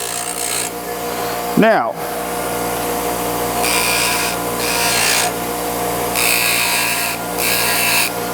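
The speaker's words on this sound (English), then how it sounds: "I'm going to just touch it down to the grinding wheel and move it across" A screwdriver is touched to a grinding wheel and drawn across it in several short, bright gritty bursts over a humming motor, with a brief spoken word near the start.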